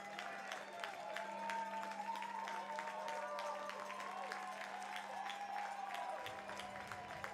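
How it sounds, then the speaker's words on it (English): A baseball stadium crowd at a Portland Pickles game applauds steadily and fairly far off, a dense wash of clapping with scattered cheers that holds throughout, with a steady low hum underneath. "Walker Stadium getting a heck of a round of applause to Jeremiah Coughlin."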